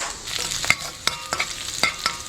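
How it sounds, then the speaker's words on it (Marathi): Garlic frying in hot oil with cumin seeds, curry leaves and a pinch of asafoetida, a steady crackling sizzle punctuated by sharp pops and stirring scrapes, close and fairly loud with no talking. "लसूण लायक करून भाजून जावो."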